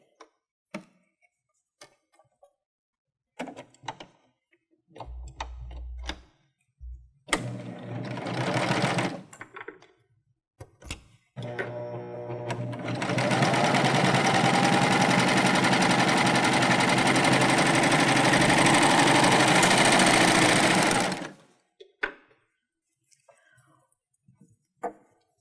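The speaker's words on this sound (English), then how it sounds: "my machine is going to handle hemming this beautifully." A Baby Lock Euphoria cover stitch machine hems heavyweight Ponte knit. Short bursts of stitching come first, then a long steady loud run of rapid mechanical whirring lasting about eight seconds, ending with soft handling clicks.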